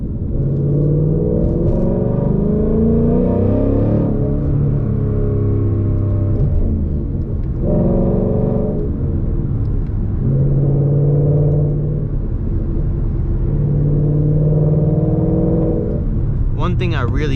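Ford Mustang GT on the road, the V8 rumbling and pulling up through several gears in repeated surges, close and loud, with someone talking over it.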